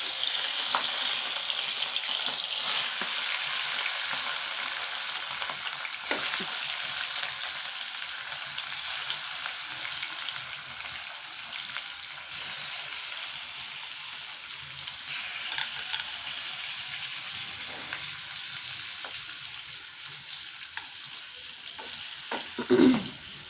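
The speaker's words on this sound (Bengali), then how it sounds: "তো দেখো আমি এখন মাছ ভাজতে দিয়েছি।" Fish frying in a pan gives a steady, close sizzle that carries through the whole stretch, with light stirring or scraping sounds now and then and a slightly louder clatter near the end.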